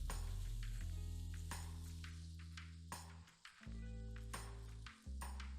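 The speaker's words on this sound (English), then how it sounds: "You just want to give it a good sear." Beef searing in a hot pan for shredded Italian beef sandwiches, with a quiet steady sizzle under low humming tones and a few sharp clatters and handling knocks.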